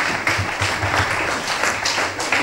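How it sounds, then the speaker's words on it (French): Church congregation at a Bible conference applauding, steady rhythmic clapping from a crowd in a rolling burst, close and fairly loud. "Applaudissez très très fort le communicateur."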